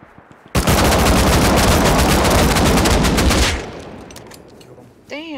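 A loud, continuous burst of AK rifle fire in a video game firefight lasts about three seconds, then trails off into echoing reverb and a short tone.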